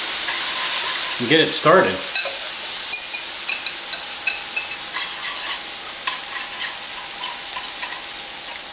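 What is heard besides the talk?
stirring food sizzling in a frying pan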